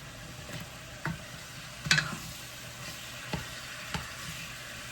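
Chicken tinola with tomato is stirred in a pot over a soft steady sizzle, with a few distinct scrapes and clinks of the utensil against the pot spaced a second or so apart, close by and without talk.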